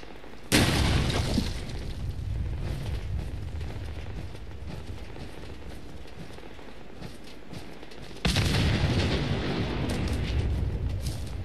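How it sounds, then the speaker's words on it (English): Grenade blasts in the Fallout 4 game, two heavy booming explosions about eight seconds apart, each followed by a long loud rumbling tail, with no talking. "I'm gonna throw all the fucking grenades."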